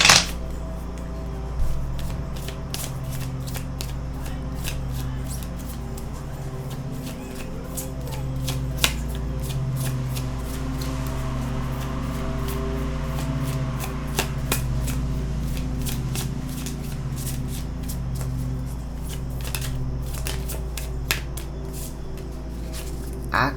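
Oracle cards being shuffled for a tarot love reading, a steady, continuous riffling and sliding of card stock with small taps and flicks throughout, close and moderately loud, with no talking.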